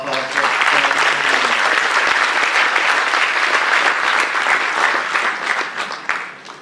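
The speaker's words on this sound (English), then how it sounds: "let's give them a round of applause" A crowd applauds loudly and steadily, dense clapping filling the room and fading slightly at the end.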